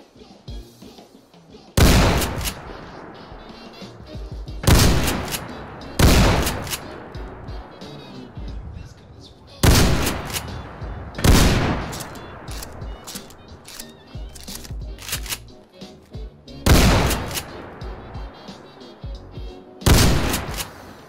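An Ithaca Model 37 pump-action shotgun fires in Fallout 4 on a gun range, eight loud sharp blasts spaced a few seconds apart, each followed by a decaying tail and quieter mechanical clatter between shots.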